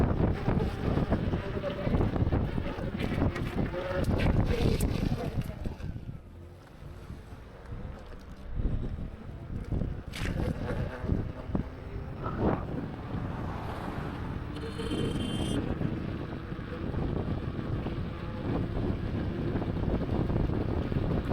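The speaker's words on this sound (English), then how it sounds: "I also love the sound of wind when it's not too crazy." Steady wind rushing past a motorcycle rider on the road, a broad buffeting roar with gusts rising and falling throughout, dipping briefly mid-ride before building again, with no talk over it.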